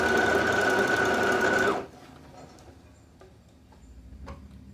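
A sewing machine runs fast, stitching a decorative border onto a towel, with a steady loud whirring hum that stops abruptly partway through, leaving a quiet room with faint handling noises.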